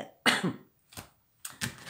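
A few short coughs in a quiet room, close and fairly loud, the first strongest, separated by silent gaps.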